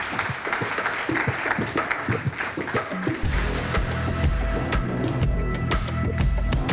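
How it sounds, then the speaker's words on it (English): Audience applause for a panel of experts at a talk, with scattered claps building into steady, full clapping from the crowd that continues for several seconds. "if we get a round of applause for our experts"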